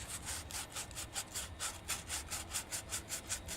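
Wood being sanded by hand while building a dulcimer, a rhythmic back-and-forth rubbing scratch of about a dozen even strokes, close and steady with no talk.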